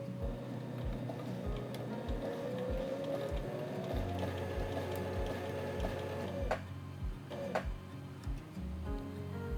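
A sewing machine stitches steadily around the corner of a quilt, its rapid regular needle thuds running under a motor whine that rises briefly, with a couple of sharp clicks near the end and no speech.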